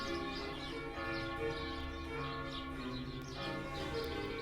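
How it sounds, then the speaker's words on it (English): Village church bells ring with layered, sustained tones, heard softly from a distance, with faint bird chirps in the background. "And the church bells of the village I live in are here again."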